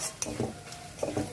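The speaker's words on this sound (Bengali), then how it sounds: "আর বাদামটা খুব বেশি ভাজবো না, একটু নেড়ে চেড়ে নেবো" Shelled peanuts being stirred and dry-roasted in a pan, heard as a few soft scraping strokes and light rattles of the nuts at moderate volume, with no voice over them.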